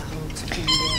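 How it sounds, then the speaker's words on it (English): A kitten gives a short high meow, close and clear, over faint background noise. "This tiny cat holds my entire heart in his little paws."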